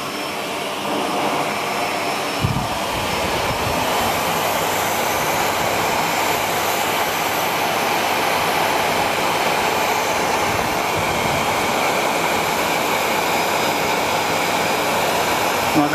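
A Miele S7510 upright vacuum cleaner switching on at maximum power, a sudden start followed by a loud, steady, close-up roar and whine that holds unbroken throughout.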